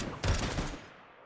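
A shotgun blast in the Rimworld video game, a single loud boom with a short fading tail, standing alone without talk.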